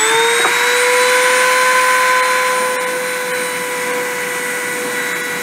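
A high-speed spindle at 30,000 RPM depositing 0.5 mm tantalum onto aluminum oxide whines steadily with a bright, piercing pitch, its tone holding nearly constant for several seconds with faint ticking underneath.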